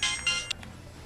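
Short electronic phone ringtone, two bright bursts and a brief third blip within about half a second, then quiet room tone.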